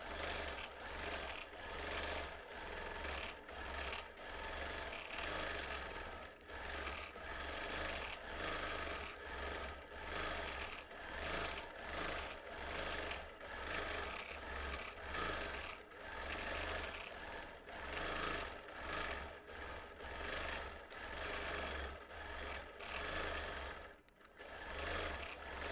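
Sewing machine quilting straight across a seam on a quilt made without batting, a rapid, steady rattling stitch run that continues for a long stretch with brief pauses, close and even.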